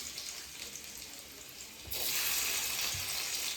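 Garlic hits a hot pan and sizzles, a faint steady hiss that suddenly swells louder as the garlic goes in, continuing alone without voices.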